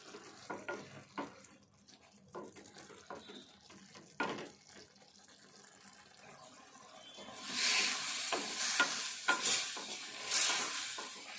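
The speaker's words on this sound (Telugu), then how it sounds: "ఇదంతా దగ్గరికి వచ్చేదాకా కలుపుకోవాలి" A spoon stirs a spinach and eggplant curry in a pan, making soft, irregular scraping strokes over a quiet background, followed by a louder burst of sizzling toward the end.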